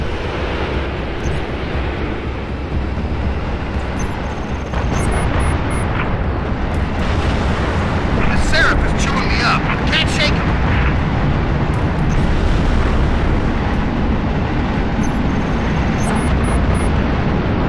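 Roaring engine rush of a Banshee attack craft in the Halo Reach game, a loud sustained drone with whooshing passes over a busy battle mix.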